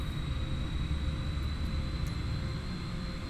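Boeing 787 Dreamliner engines in Microsoft Flight Simulator 2024 hold a steady, loud, unbroken roar with a deep rumble and a thin high whine running throughout.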